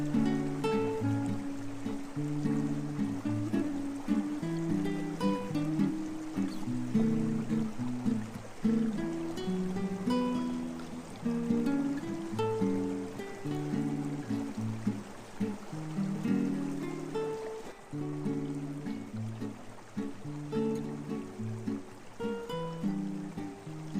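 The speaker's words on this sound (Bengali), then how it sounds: "আমাদের মোটর বোট এগিয়ে চলেছে কুমারী ও কংসাবতী সঙ্গমের দিকে।" A motor boat travelling across the Kangsabati reservoir, its engine a steady low drone under continuous water wash, with faint music playing throughout and no clear talk.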